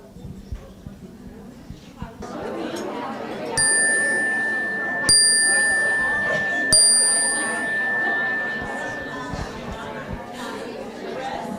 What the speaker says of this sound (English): That chime is not very loud